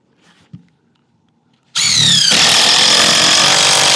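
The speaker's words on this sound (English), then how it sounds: "And I'm putting my third screw to finish that joint" A power drill drives a screw into wooden soffit framing, a sudden loud whine that starts after a quiet pause and runs steadily to the end, close and dominant.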